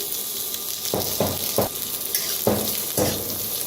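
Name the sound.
onion roasting in oil, sizzling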